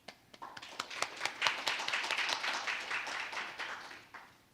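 Audience applause at an ASEAN-Korea trade and investment roundtable welcoming a remotely joining ambassador: a modest round of scattered hand claps building and sustaining for several seconds, then thinning out, fairly quiet and distant.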